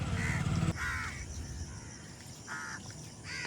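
Crows cawing over rice fields at planting season, several harsh calls in short bursts, one early and another pair later, fairly close over steady outdoor background noise.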